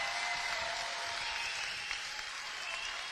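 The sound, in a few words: boxing crowd applause for both boxers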